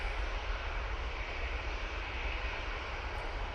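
An easyJet airliner departing Manchester Airport for Lisbon, a steady, fairly faint jet engine rumble heard from a distance with no voices.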